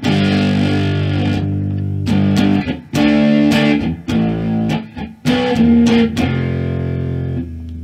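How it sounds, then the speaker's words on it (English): Electric guitar played through a distortion pedal into a small amp, loud and saturated, with strummed chords and short bursts separated by brief gaps over about eight seconds. "this one is always my favorite with the distortion"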